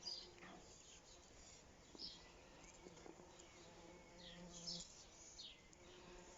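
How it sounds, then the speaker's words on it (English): Soft, steady buzzing of bees around comfrey flowers in a garden, with several bees drifting close and away; faint bird chirps appear now and then. "covered in bees"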